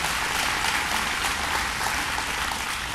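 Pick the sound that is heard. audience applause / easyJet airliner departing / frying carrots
audience applause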